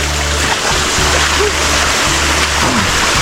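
Spring water from the mountains pours through a small roadside channel in Tiwi, Albay, a steady close rush with splashing that runs loud and unbroken throughout.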